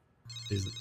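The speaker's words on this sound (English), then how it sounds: "That was my phone." A phone ringtone starts abruptly after a brief quiet moment, a bright electronic tone with a short louder burst near the end, close and clear with no talking.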